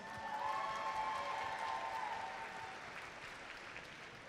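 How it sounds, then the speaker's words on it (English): Audience applause for Georgia Power at a robotics district event, a broad steady wash of clapping with a faint tonal hum riding above it, fading slightly toward the end. "So can we give Georgia Power a huge round of applause?"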